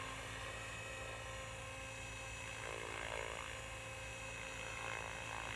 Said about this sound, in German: Der Hubschrauber bleibt exakt auf der Stelle, auf der er gerade ist.